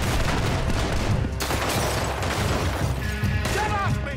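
Dense gunfire in Red Dead Redemption 2, loud overlapping shots and booms in a continuous chaotic firefight, with shouting voices mixed in.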